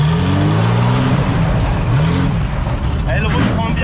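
A Citroën Traction fitted with a V12 bi-turbo engine accelerates hard at full throttle, its loud, close engine roar rising steadily while someone talks over it.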